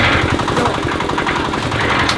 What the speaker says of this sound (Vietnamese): Khởi động máy rồi